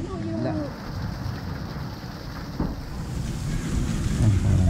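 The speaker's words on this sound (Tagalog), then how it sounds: "Lakas ng ulan." Heavy rain driven by wind pours down in a steady hiss with gusts buffeting the microphone, loud and constant throughout, while people talk briefly close by.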